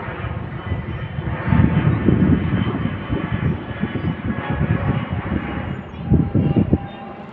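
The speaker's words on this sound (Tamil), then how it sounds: "பிரிட்டிஷ் ஏர்வேஸ் தெரியுதுன்னு நினைக்கிறேன் பிரிட்டிஷ் ஏர்வேஸ்" British Airways airplane flying over London, a loud, steady, broad engine roar that swells and fades overhead, with brief street noise underneath.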